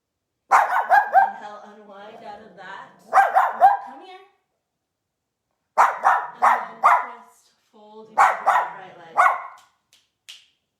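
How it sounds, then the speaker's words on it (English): A dog barks in several clusters of quick, sharp barks separated by pauses, close and loud, with no talk. "You're barking at nothing, sweet girl."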